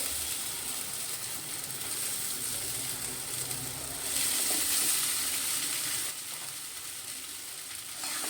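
Poha dropped into a hot pan with oil and stirred, a steady loud sizzle and frying hiss that swells briefly during mixing, with no talk.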